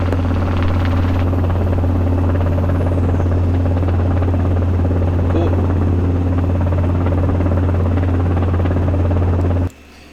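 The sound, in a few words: Robinson R22 helicopter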